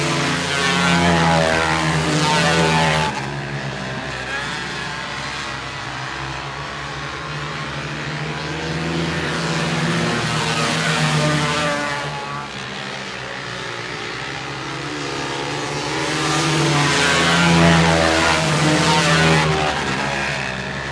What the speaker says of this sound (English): the flagman showing 2 laps to go to the leader. 2 laps left in this heat race.